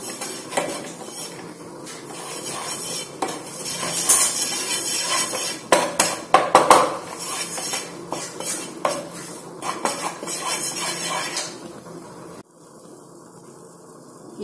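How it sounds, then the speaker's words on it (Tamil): Maida flour being stirred in a metal pan for white sauce pasta, with a spoon scraping and clinking steadily against the pan close by, in irregular bursts, then a quieter stretch at the end. "இந்த மாதிரி நல்லா கிளறி விடுங்க."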